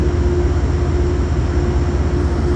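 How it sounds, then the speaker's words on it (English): Steady, loud low rumble of a train engine idling or rolling slowly as it arrives at a station in Albany, New York, with a constant hum and no voices. "One of these trains just came into the station."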